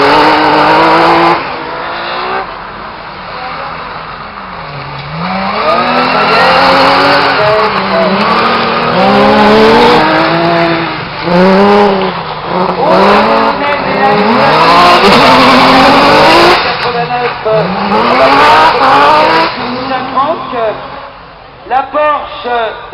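Autocross race cars on dirt, including a Porsche and a Renault Clio, roar past with rising and falling engine notes and tire squeal, close and loud, while a commentator talks over them almost constantly.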